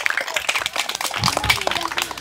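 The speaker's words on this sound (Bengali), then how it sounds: "আমাদের প্রতিযোগীর জন্য জোরে করে করতালি হয়ে যাক।" An audience at a bottle-cap flicking challenge claps in a burst of steady applause, with scattered hand claps and cheers running for a couple of seconds.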